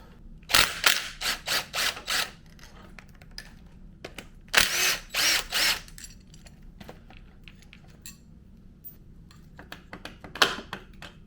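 Tools work on removing the starter motor from a Suzuki DR650 motorcycle, giving two quick groups of sharp ratcheting bursts, then quieter scattered clinks and a final short burst in a calm workshop.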